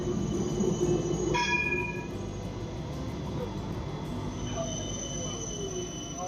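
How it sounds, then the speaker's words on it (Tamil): City tram running on street rails in Amsterdam, with a sharp high wheel squeal that rises, then lingers as fainter whining tones over a steady rumble of the passing cars. "இங்கேயும் வருது பாருங்கள் ட்ராமு."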